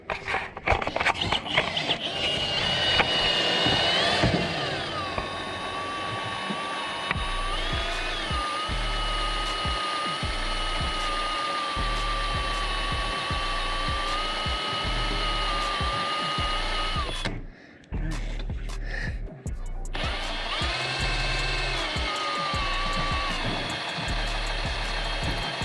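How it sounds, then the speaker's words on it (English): A power drill whines steadily at high speed drilling holes in a car roof for a roof rack, pausing briefly and then starting up again, close and loud. "now we've drilled all our little holes in here"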